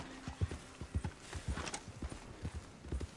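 Horse hooves clip-clop in a steady walking rhythm in Red Dead Redemption II, close and clear with a faint ambient bed underneath.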